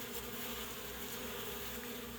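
Steady, close buzzing hum of freshly hatched young honeybees gathered together, a continuous droning tone with no speech.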